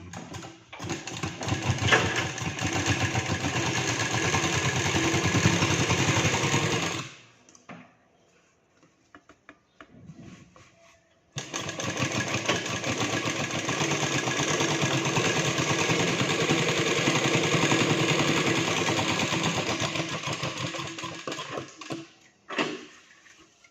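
A sewing machine stitches a blouse in two long, loud, continuous runs separated by a brief quiet pause, ending with a short final burst.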